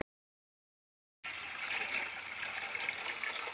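Water runs steadily into vessels as they are filled at home. The flow starts abruptly after a stretch of silence and continues as a constant hiss and splash, with no talk.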